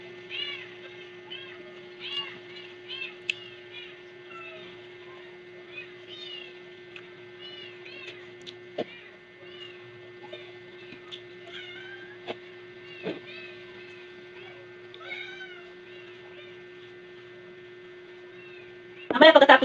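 Cats meow for food again and again, with short, rising cries coming in irregular bursts over a steady low mains hum, and a louder cluster of meows breaks out at the very end.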